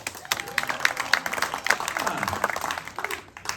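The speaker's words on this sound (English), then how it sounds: "We got any parents here? Clap it up." Parents in a comedy club audience at the Magic Lantern in Bridgton, Maine clap, with scattered whoops and voices through the applause. The clapping is dense and fairly loud, holding for a few seconds before it thins out.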